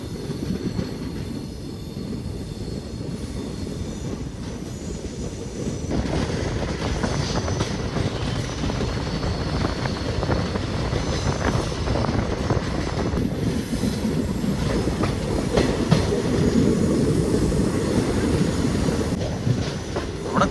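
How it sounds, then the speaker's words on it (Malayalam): Rajya Rani Express on its Nagercoil to Nilambur run, heard from a sleeper-class coach at night as it curves into Kollam junction: a steady, loud rolling rumble of wheels on rails that swells after the first few seconds and carries faint clattering throughout. "2 മിനിറ്റ് ഡിലേയിൽ നമ്മുടെ ട്രെയിൻ നമ്മുടെ കൊല്ലത്തിൻ്റെ തിരിവ് തിരിഞ്ഞ് കയറാൻ പോവാണ്"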